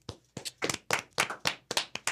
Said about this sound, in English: let's get a big round of applause for our second guest here, Jonny.